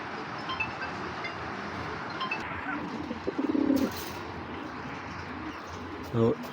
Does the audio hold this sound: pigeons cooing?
yes